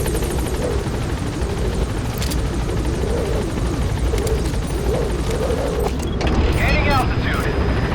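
Helicopter in the video game Metal Gear Solid V, a Blackhawk-style aircraft gaining altitude, with a loud continuous rotor thump and engine roar throughout and a voice talking over it.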